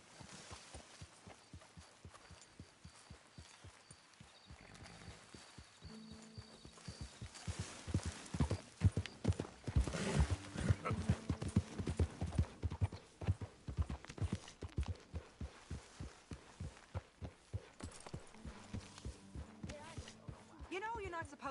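Horse hooves clip-clop in a steady rhythm in the video game Red Dead Redemption 2, starting faint and growing louder and closer as the horse walks through camp, with background voices and ambient sound beneath.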